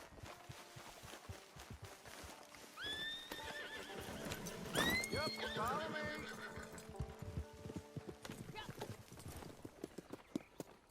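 Horses in Red Dead Online neigh loudly in two sharp whinnies while hoofbeats clop steadily nearby, with someone speaking briefly over the riding.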